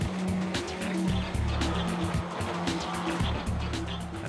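Racing cars driven in reverse on a track, engines roaring continuously with tyres squealing and skidding, loud and close throughout.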